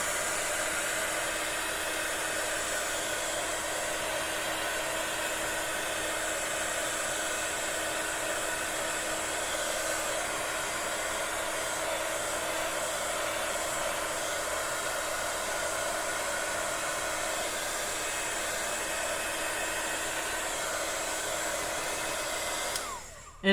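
A hair dryer blows on fresh paint coating a handmade Mother's Day gift, a steady, even whooshing roar held for over twenty seconds before it cuts off abruptly at the end.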